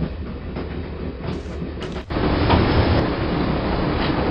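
Moving train in the adventure game Broken Sword: Shadow of the Templars, a steady loud rumble of wheels and carriages that grows heavier and denser halfway through, with no speech.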